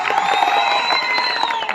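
Audience at a comedy stage program cheering and clapping, a lively crowd roar with scattered whoops and shouts held steady throughout.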